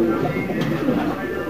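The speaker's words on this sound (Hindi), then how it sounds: "शबीर भाई कबूतर खोल रहे हैं, अभी शुरू कर रहे हैं निकालना कबूतरों को" Pigeons being let out of their loft, with soft cooing and fluttering close by and a constant background hum; a person talks faintly underneath.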